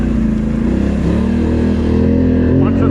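Polaris Sportsman XP 1000 ATV engine held on heavy throttle along a bumpy, hilly trail, a loud steady drone with harmonics that climb slightly as it revs, continuous through the stretch.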